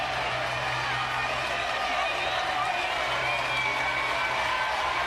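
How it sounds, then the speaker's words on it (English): A large stadium crowd of Oklahoma Sooners fans roars steadily at a women's college softball game in the 2024 World Series against Florida, a dense, sustained wash of cheering under commentary. "Sooner crowd is in a frenzy."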